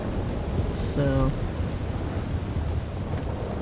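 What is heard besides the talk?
rain and thunder in video game Red Dead Redemption 2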